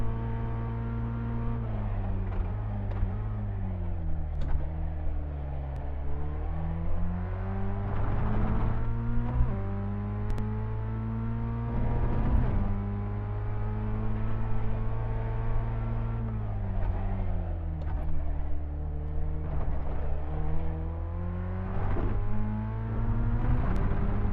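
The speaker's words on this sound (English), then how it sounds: "There's a car exiting the pits" A racing car in a video game pulling out of the pits, a sustained engine whine that rises and falls through gear changes and keeps going without a break, with no talk.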